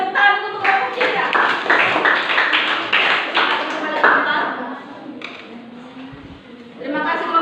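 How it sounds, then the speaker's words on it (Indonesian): Students in a seventh-grade classroom clap for a presenting group, with brisk, close hand claps mixed with sharp taps and voices, then a pause before another short burst of clapping. "terima kasih tepuk tangan untuk kelompok 3"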